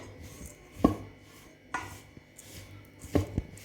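Ground sesame and peanut ladoo mixture being mixed by hand or spoon, giving three or four soft, dull thuds and scrapes spaced apart in a quiet room with no talk.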